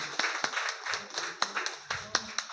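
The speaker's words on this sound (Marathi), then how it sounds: "सगळ्यांच्या टाळ्या गजरात त्यांचं स्वागत करूया." An audience applauds to welcome an honoree at a felicitation ceremony, with steady crowd clapping and sharper individual claps standing out throughout.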